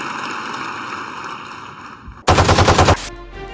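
Frenzy machine pistol in the video game Valorant fires a rapid, loud burst of about eight shots lasting under a second, over a steady game hum and tonal ambience.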